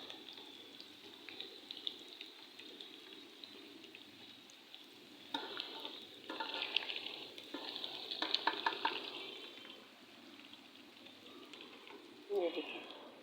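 Koftas sizzle in hot oil and are lifted out, with a faint steady crackle broken by louder bursts of frying, stirring and clinking as they are moved, while someone talks over it.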